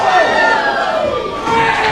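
Crowd at a live indie wrestling event in a Knights of Columbus hall cheering and shouting loudly and steadily throughout, a dense roar of many voices with rising yells.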